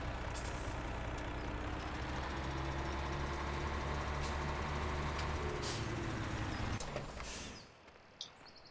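A truck in the video game Farming Simulator 17 rumbles steadily at close range with a low engine drone and a hiss of air, then cuts off abruptly near the end, leaving a brief quiet tail with a small knock.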